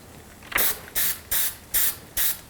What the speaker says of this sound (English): put the spray adhesive on